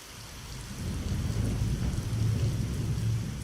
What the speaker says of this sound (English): Late in the afternoon, a storm hit,